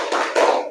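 Hand claps in a classroom clapping routine, a couple of quick claps close together, loud and near, with no talk over them.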